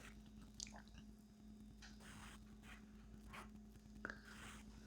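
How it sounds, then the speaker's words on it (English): A person chews steadily and quietly, giving soft, wet, crunchy bites close to the mic over a low hum, with no talking. "I'm chewing right now"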